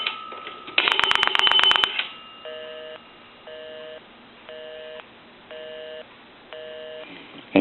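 A 3-slot payphone handset gives a short steady dial tone and a quick burst of touch-tone digits, then the busy signal pulses evenly, five on-off beeps, close and clear with no talking.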